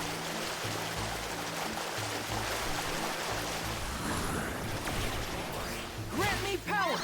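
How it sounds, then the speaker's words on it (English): A waterfall in the video game Visions of Mana pours in a continuous, even rush, joined near the end by brief sharp game effects. "No secret behind the waterfall."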